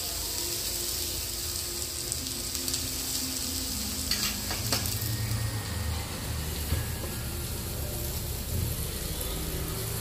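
Thalipeeth frying in oil on a pan, a steady close sizzle and crackle with a few brief clinks and scrapes from handling.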